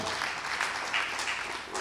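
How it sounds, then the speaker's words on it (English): Audience applause at a hackathon awards ceremony and gala dinner, a dense, steady patter of many hands clapping throughout the short stretch, with no voices above it. "So give yourself a round of applause that you have won."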